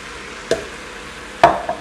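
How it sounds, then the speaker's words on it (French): Rice poured into a pot during home meal prep: quiet room tone broken by a short scrape at first, then a louder rattling pour and stirring clatter near the end. "Maintenant, je vais rajouter mon riz directement dans ma cuve."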